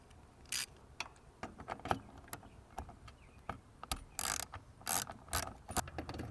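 A wrench ratcheting seat base bolts tight during a Smooth Moves Ultra Seat Base install, crisp clicking ratchet strokes in irregular bursts, close and fairly quiet with short pauses between runs.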